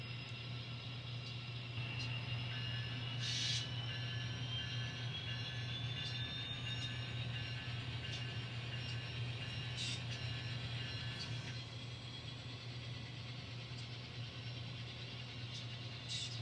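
An N scale model train pulls empty cars along the track with a steady low motor hum, light rolling rattle and a faint high wheel squeal partway through.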